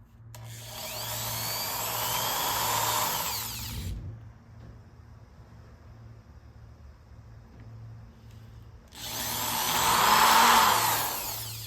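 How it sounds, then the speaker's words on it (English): A power drill whirs steadily for a few seconds drilling into a curved car cover while fitting a license plate frame and light, stops to a quiet hum, then spins up again for a second burst. "this is a curved cover, so you kind of gotta hold the drill a bit on an angle"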